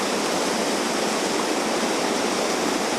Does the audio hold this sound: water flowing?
yes